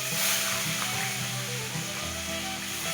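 Katla fish pieces frying in hot oil in a wok, giving off a dense, steady sizzle with a soft scrape or two, close and continuous without any voices.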